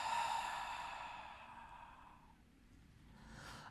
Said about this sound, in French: Expire.